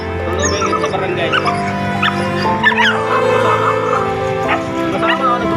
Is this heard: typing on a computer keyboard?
no